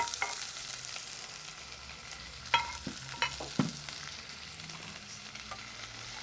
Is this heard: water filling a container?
no